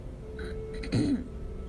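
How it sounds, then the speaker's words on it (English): A single short throat clearing, close and fairly loud, over a steady low hum with a faint tone before it. "I'm having to clear my throat."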